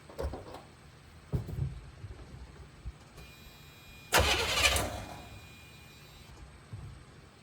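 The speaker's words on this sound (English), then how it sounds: "Let me hit the key and make sure it rolls over." A Chevy engine turned over with the key makes short bursts of starter cranking, one louder whirring spell midway, with clicks and quiet pauses between, close by and without talk.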